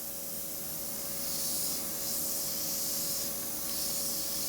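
A double- or single-action airbrush sprays shading paint through a freehand shield, making a soft, continuous, close hiss with slight swells in level throughout.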